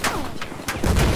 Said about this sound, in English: That's the anti-air on the